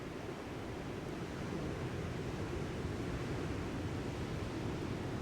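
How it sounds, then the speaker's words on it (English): Ocean waves heard as a soft, steady wash of surf, an even distant roar with no distinct breaks and no voices. "Hearing the waves."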